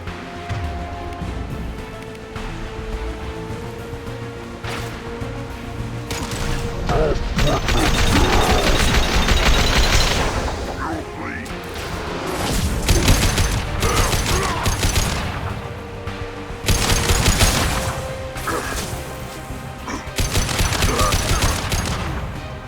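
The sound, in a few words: gunfire in video game Mass Effect 2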